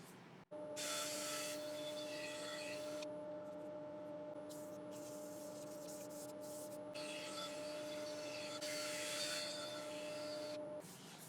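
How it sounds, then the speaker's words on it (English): Abrasive sanding on a turned cypress wood piece, likely spinning on a lathe, comes as long rasping passes over a steady motor hum, faint and continuous without speech. "what I'm going to do is get this sanded"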